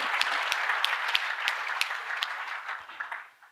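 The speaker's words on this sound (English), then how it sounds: "maybe we can just give them a little bit round of applause." Audience applause fills a conference hall at a Zabbix software conference, a dense, steady wash of many hands clapping at moderate volume that tapers off toward the end.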